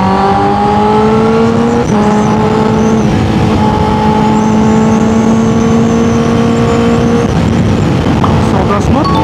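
Honda CBR1000RR-R Fireblade SP motorcycle engine held at high RPM while riding, a loud continuous whine with steady rising tones and wind rush, briefly dipping and climbing again.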